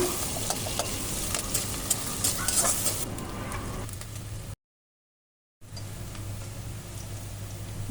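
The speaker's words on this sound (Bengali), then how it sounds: "বাকি তেলের ভিতরে আমি পেঁয়াজ মরিচ দিয়ে দিলাম" Onions and chilies fry and sizzle in oil close by, with stirring scrapes and crackles. The sound drops out for about a second and then the frying returns.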